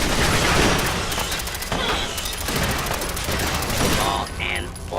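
Rapid automatic gunfire in Fallout 4, dense repeating bursts of shots and booms filling the scene loudly, with brief vocal sounds mixed in.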